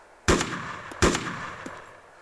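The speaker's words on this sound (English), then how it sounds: "You're shooting him." Gunfire in the video game DayZ on ARMA 2, two loud sharp shots about three quarters of a second apart, each with a short echoing tail and a faint later crack.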